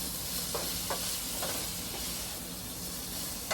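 Small shrimp cooking in a hot pan, a soft, steady sizzle and hiss with a few faint crackles, fairly quiet and continuous with no talking.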